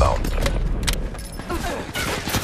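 Gunfire during a Call of Duty Black Ops 3 online multiplayer match, dense overlapping bursts of shots crackling continuously over the short stretch, close and loud.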